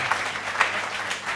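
An audience claps together in a brief, moderately faint burst of applause with a soft crowd wash behind it.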